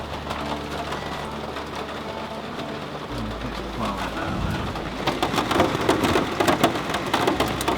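Steady rain drums on a van's metal roof overhead, building heavier and denser toward the end, with no voices.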